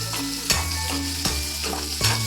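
Curry leaves and onion frying in hot oil in a pan, a steady close sizzle with a few louder stirring scrapes at regular intervals, no voices.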